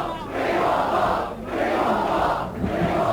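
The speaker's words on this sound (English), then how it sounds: "Not a vast crowd here to see history made in this third Test match, but my word, they were very enthusiastic" A cricket crowd at Headingley cheers and chants enthusiastically after a famous 1981 Ashes Test win, rising in rhythmic waves of massed voices, loud and sustained.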